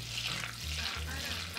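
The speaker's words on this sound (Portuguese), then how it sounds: "em uma panela você vai colocar uma colher bem cheia de manteiga e duas colheres de azeite" Butter and olive oil heat in a pan, giving a steady, close bubbling sizzle that continues without pause under a faint low background hum.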